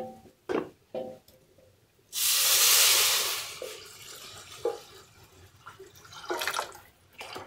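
Hot water is poured out in one loud, steady hissing rush lasting about a second and a half, close by, between scattered knocks and clatters in a kitchen with a wood-fired stove.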